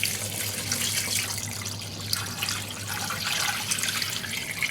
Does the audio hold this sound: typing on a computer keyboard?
no